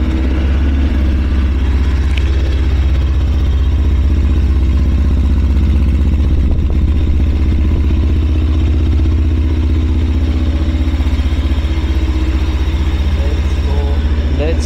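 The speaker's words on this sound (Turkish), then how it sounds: "Motoru çalıştıralım." A TOGO 800 series 800cc motorcycle engine runs at a steady idle, a loud continuous low rumble with light mechanical clatter throughout.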